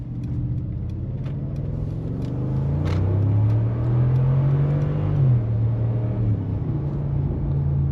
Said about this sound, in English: V8 sounds beautiful.